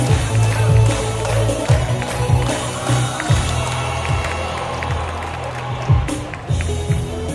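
Applause and cheering from a crowd at an award ceremony for a digital art competition, a sustained clatter of clapping with swells and shouts that runs throughout.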